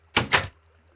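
A door placed in the Minecraft video game gives a short two-part wooden clunk, close and fairly loud, then fades quickly to quiet.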